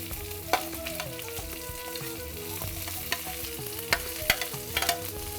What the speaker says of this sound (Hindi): अनियन को हम थोड़ा भून जाने देते हैं, हल्का गोल्डन रंग आ जाए इनका।